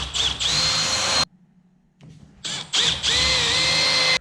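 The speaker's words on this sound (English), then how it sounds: "We'll start out by pre-drilling with a countersink bit." A power drill with a countersink bit whines and bites into wood in two bursts, rising and falling in pitch, with a short quiet pause between them.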